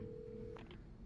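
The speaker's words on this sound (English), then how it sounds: "aren't we supposed to find a phone in here, Mr. Wake? There it is. Gotta use that hotline" A telephone rings at a sheriff station in the video game Alan Wake Remastered. One short ring burst sounds near and clear over a low steady hum, with no voices.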